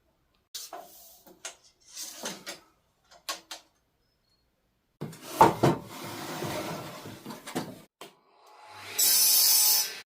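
Timber for a staircase upgrade being cut to length, with a few scattered knocks and scrapes before a run of rough, rasping saw strokes and a brief bright whine at the end.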